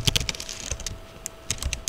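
Someone types quickly on a computer keyboard while writing C++ code, producing irregular clusters of crisp, close key clicks over two seconds with a short lull in the middle.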